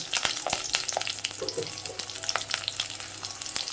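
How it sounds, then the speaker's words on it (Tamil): Green chillies sizzling in hot oil in a pan while making rava kichadi, a close crackling fry with frequent sharp pops and spatters over a steady hiss, no talk. "பச்சை மிளகாய் போட்டுக்கலாம்."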